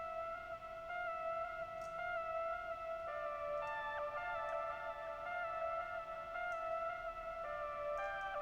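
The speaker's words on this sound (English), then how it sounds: "Now I have the pipe lead from the Global One Shot kit." A pipe lead synth from a one-shot kit, run through vintage reverb and two delays in FL Studio, plays soft sustained tones that stack into held chords, faint and steady, alone.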